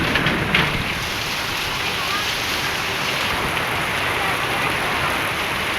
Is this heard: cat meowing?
no